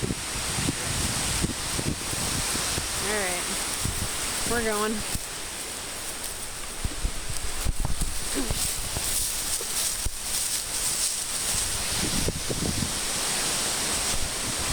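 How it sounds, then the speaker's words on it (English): Wind picks up on a lake shore with gusty, broadband rushing and water noise, punctuated by bumps and rustles, while a person speaks briefly. "The wind's picking up."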